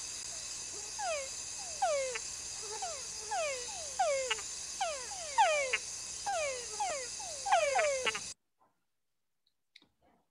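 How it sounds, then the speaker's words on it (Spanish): Túngara frog calls played back from a recording: repeated descending whine-like notes, some ending in short chuck clicks, come in a steady rhythmic series over a constant high background hum for about eight seconds, then stop abruptly into near silence. "Y les dicen túngara por su canto que les voy a poner."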